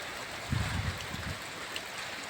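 Heavy rain pours down steadily in a close, even broadband rush of water, with a few louder low splashes partway through and no voices.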